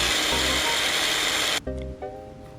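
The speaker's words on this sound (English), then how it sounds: "Let's bring it to the food processor, grind it for 5 to 6 seconds, that's all, until they are finely crumbled." A food processor grinds broccoli and carrot for a few seconds, a loud dense whirring that cuts off abruptly, then spins down briefly with a softer motor hum.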